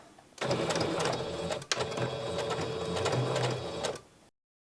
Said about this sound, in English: We're going to straight stitch it all the way around, as close as you can get to the edge.